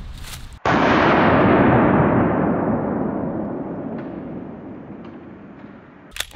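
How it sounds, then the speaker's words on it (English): A single loud pistol shot from a Smith & Wesson M&P Shield firing a Winchester self-defense round, booming close up and then rolling away in a long fading echo over several seconds. "it is a Winchester self-defense round, and we're shooting this one out of the Smith & Wesson M&P shield"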